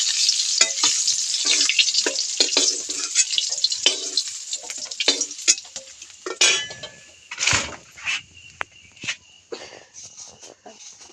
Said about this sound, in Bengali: ডিমটা একটু ভাজা ভাজা হয়ে যাক